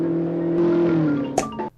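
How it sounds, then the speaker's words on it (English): A cartoon character runs so fast she makes a car engine noise, a loud continuous revving drone that slides slightly in pitch before ending in a couple of sharp hits and cutting off. "There's her running so fast she makes a car engine noise"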